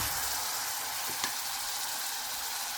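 Onions and spices sautéing in a pan for a spiced eel (baim fish) dish, a steady broad hiss of frying with a brief scrape of stirring partway through, close and unbroken.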